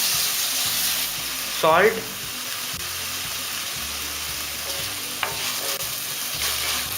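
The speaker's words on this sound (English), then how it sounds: "mix well and cook until the tomatoes are mushy" Chopped tomatoes and browned onions sizzle steadily in a hot pan for Indian ragda pattice, with a brief clatter of stirring early on, a sharp tap later, and a voice briefly speaking over the frying.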